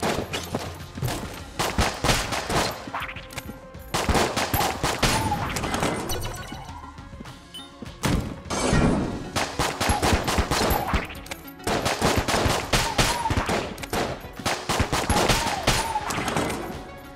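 Rapid strafing gunfire from the video game Enter the Gungeon, dense bursts of shots rattling almost continuously in loud volleys broken by short pauses.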